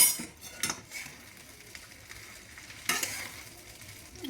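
Whole spices for Kolhapuri masala are dry-roasted in a pan, heard as close, rustling stirs and scrapes with a couple of stronger sweeps, loud and with no talking.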